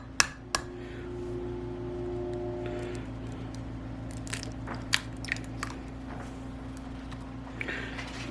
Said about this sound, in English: I'm going to try to crack this egg.